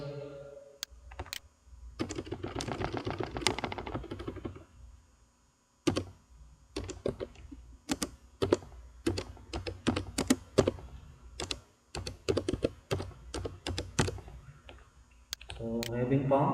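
Keys clatter on a computer keyboard as letters are typed for engraving in Mastercam, close, with bursts of rapid keystrokes and separate sharp clicks, and someone speaks briefly near the start.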